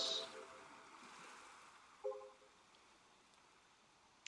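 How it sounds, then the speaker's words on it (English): Faint, steady wash of ocean waves below cliffs in the video game Robotics;Notes Elite, a soft continuous surf hiss with a few brief tonal game sound cues layered over it. "The sound of waves resounds faintly from below the cliffs."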